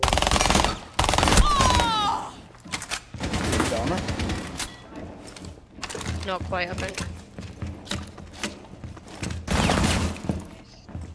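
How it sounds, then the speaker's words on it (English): A shotgun loaded with slug shells in Rainbow Six Siege fires several sharp, heavy blasts at uneven intervals amid the clatter of a close-quarters firefight, with a voice talking in between. "That shotgun is not a regular shotgun. It has slug shells."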